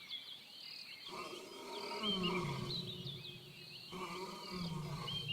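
A deep, rumbling lion roar rolls out in repeated swells over a dense wash of high-pitched insect and bird chatter in a Congo forest, with no talking.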